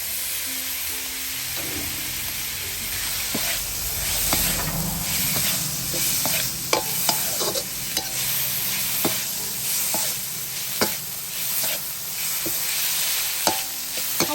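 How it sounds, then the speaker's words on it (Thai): Pounded eggplant, shallot and garlic paste crackles and sizzles in hot oil while being stir-fried. A continuous frying hiss runs under scattered sharp clicks and scrapes of a utensil against the pan. "มันเริ่มออกก็จะเอา มะเขือหัวสีไข่กระเทียมหอมๆที่เราตำไว้นะมาคั่วเนาะ"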